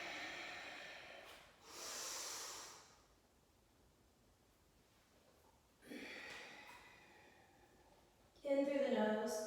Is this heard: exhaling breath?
yes